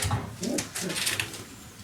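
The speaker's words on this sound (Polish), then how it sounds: "ona tutaj sobie już pogruchuje do mnie jako do właściciela" A female pigeon coos softly up close, a few low throaty murmurs in quick succession with some rustling.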